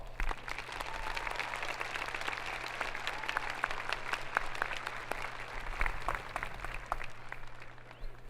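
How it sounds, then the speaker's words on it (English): Graduation ceremony audience applauding steadily for several seconds, a dense and even wash of many hands heard from some distance over a low hum. "Let's take a moment and give your parents, brothers, sisters, grandparents, aunts, uncles, a huge round of applause."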